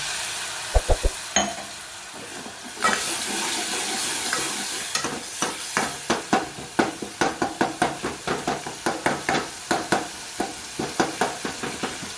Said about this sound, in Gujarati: સાથે પાણી નાખીએ.